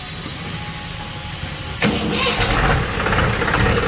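A Swaraj 735 FE tractor engine, one with a hydraulic fault, cranks over a steady background rumble and then catches midway, settling into a loud, close, knocking idle.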